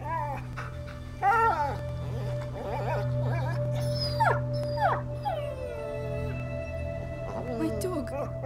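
Dog whimpering and howling in the video game A Plague Tale: Innocence, with wavering, mournful yelps and drawn-out whines over a steady low hum and game ambience, continuing through the whole stretch.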